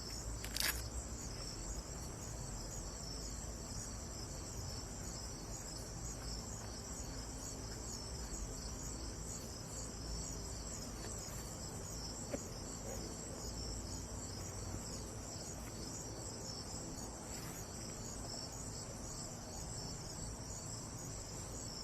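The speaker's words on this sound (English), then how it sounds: "There's cicadas and stuff as well this time of year." Steady, high outdoor insect chorus of cicadas and crickets buzzing continuously in summer, faint and even, with a few brief louder chirps and no talking.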